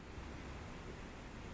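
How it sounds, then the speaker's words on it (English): Rushing water of a canyon waterfall on the Icefields Parkway, heard from a distance as a steady, broad roar with no break. "We can already start to hear the water."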